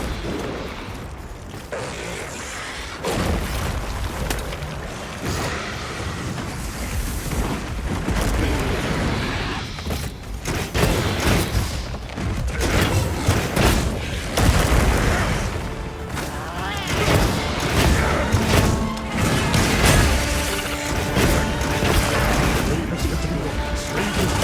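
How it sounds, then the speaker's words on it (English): Booming explosion attacks from a monster in Monster Hunter Wilds, a chaotic run of loud crashes and blasts with dense game noise throughout, mixed with speech. "That sound that it makes when it does those explosions"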